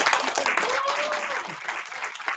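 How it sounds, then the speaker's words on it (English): Applause from an audience at a game development final year project presentation, with some voices mixed in, steady and fairly close throughout. "So can I get a round of applause for that?"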